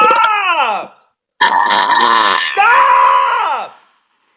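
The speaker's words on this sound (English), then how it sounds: "I'm trying to burp here." A girl lets out loud, drawn-out burps, three long croaking belches close to the mic with a short pause after the first, and a voice speaking briefly.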